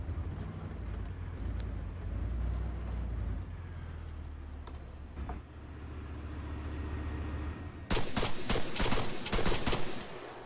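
Gunfire in the Arma III game during a Blue Beret insurgency mission: a low rumbling background gives way near the end to a rapid, loud burst of sharp shots in quick succession.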